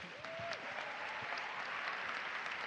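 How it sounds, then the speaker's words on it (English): Applause from a conference audience welcoming a panelist at an opening ceremony, a steady dense wash of clapping heard from a distance with a faint tonal sound at the start. "Please, applause."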